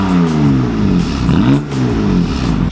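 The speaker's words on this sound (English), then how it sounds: "first we're going to do some revs with the stock downpipe" A car engine with a stock downpipe revs hard a few times, pitch sweeping up and down loudly and close, with no voices.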